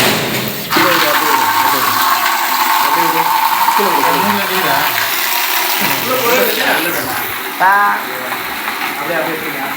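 Water gushes and splashes steadily for several seconds while voices talk over it, with a brief mechanical clatter near the end, as water is poured off snakehead fish.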